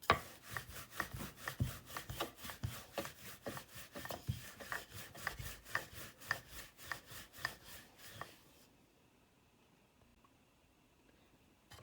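A rolling pin works naan dough dusted with flour, making steady rhythmic rubbing and knocking strokes against the board for about eight seconds before going quiet.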